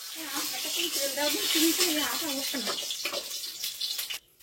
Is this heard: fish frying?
yes